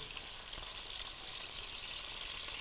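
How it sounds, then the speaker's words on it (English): Food sizzles steadily in a hot pan just after red wine is poured in, a close, continuous hiss with no voices. "you can really start to hear it sizzle now"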